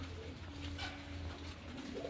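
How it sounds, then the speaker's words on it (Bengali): Native pigeons coo softly nearby in low, repeated throaty calls over a quiet background. "বাইরে দেশি কবুতর আমার"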